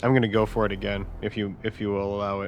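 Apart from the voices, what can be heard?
No distinct noise like a dog, phone or traffic.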